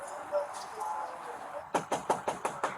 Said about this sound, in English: I'm just knocking on your door.